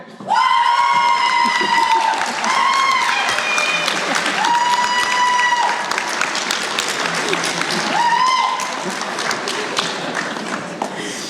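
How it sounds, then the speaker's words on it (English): A graduation conferring audience at the University of Galway claps and cheers loudly and steadily for about eleven seconds, with continuous applause and higher whoops and shouts rising over it in several bursts. "More cheering, please."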